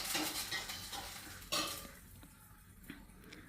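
Two sprigs of curry leaves drop into hot oil in a pan for a curd-rice tempering, giving a sizzle that fades after a sharp burst midway, with light clinks and stirring, fairly quiet, no talking.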